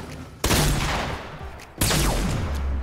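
Two heavy gunshots from a video game squads match boom out about a second and a half apart, each loud and close with a long rumbling decay, and no talking.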